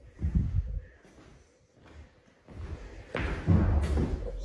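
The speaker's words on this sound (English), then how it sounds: "Did you hear that thump?" A dull thump in an empty room, with several low, heavy knocks spread across the clip and the loudest burst near the end, no voices present.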